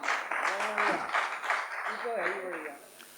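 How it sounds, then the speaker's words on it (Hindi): Audience applause at a Hindi poetry gathering (kavi sammelan), a broad rustle of clapping heard beneath a voice speaking over it, fading toward the end. "एक बार जोरदार तालियां उनके सम्मान में।"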